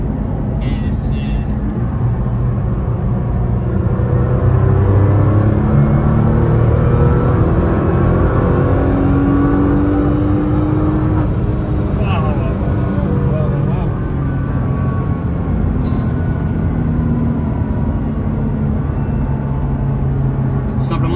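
Nissan GT-R R35 engine rumbles and surges under hard acceleration from inside the cabin, a loud continuous drone building and easing over about twenty seconds, with people talking over it at times.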